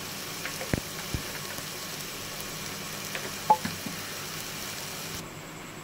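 Ginger powder, chili and turmeric sizzle softly in a hot pan, a steady low frying hiss with a few faint clicks and taps, no voices.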